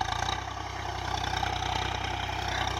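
A Swraj 744 FE 2021 tractor engine with a ground-breaking implement attached runs steadily at a low idle-like chug, a continuous close mechanical drone with no voices.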